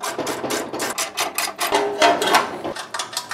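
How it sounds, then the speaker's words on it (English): A socket wrench ratchets steadily while the legs of a barbecue smoker are bolted together, a close, continuous mechanical clicking with a busy metallic rattle and no talking. "Now you are going to need a socket wrench. Any basic socket wrench will be fine."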